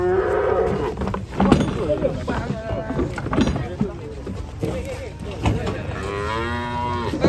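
Cattle being unloaded from a truck moo repeatedly, loud and close, with long drawn-out calls overlapping amid a busy background of voices and shuffling.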